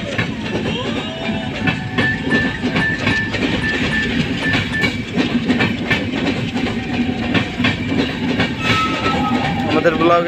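A train running on rails in Bangladesh, loud and close, with rhythmic clickety-clack of wheels over joints, a steady rumble and brief whistle-like tones, continuous for the whole stretch.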